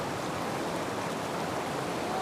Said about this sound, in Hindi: झरने की आवाज़ सुनिए